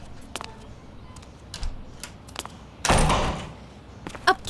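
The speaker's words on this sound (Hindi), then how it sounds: "जाओ, दरवाजा बंद करो।" A door thuds shut in a house, one loud dull thump with a brief rattle, preceded by faint scattered knocks and clicks in a quiet room.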